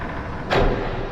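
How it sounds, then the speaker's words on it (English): A basement door slams shut with a single loud, heavy bang midway through, standing alone over a steady low background. "the basement door slammed shut"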